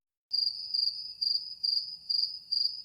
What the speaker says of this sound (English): Insert crickets.